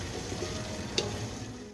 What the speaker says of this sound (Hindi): इसे हम चलाएंगे।